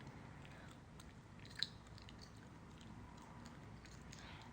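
Gum is chewed close to the microphone in soft, wet, irregular smacks and squelches, faint and continuous with one sharper click partway through.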